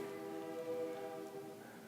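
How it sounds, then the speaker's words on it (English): A train whistle sounds far off as one sustained, steady horn tone holding for about two seconds, faint and distant over a quiet background. "like that train whistle off in the background"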